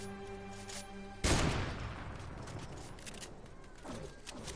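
A single sharp sniper rifle crack in a shooter video game rings out loud and close after a quiet start, trailing into a long, rumbling echo with faint game sounds behind it.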